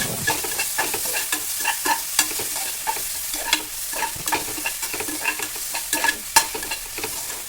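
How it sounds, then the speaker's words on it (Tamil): Ripe tomatoes sizzle and fry in a hot pan for Chettinad mutton kulambu, with repeated scraping and stirring strokes at an uneven rhythm, close and steady throughout. "ரெண்டு பழுத்த தக்காளியை சேர்த்துக்கலாம் அதையும் நல்லா வதக்கி விட்டுக்கலாம்"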